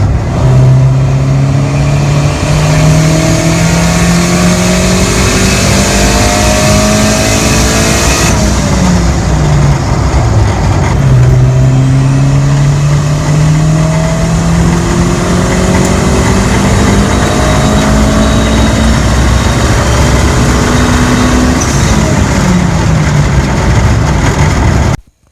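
A turbocharged car engine with its wastegate recirculated revs repeatedly, loud and close, climbing through the gears in long pulls with brief drops between them, a continuous engine drone with no voices.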